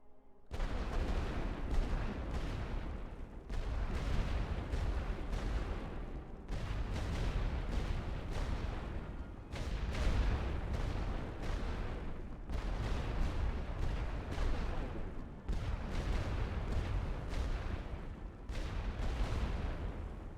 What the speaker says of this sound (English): Set for barrage. All guns.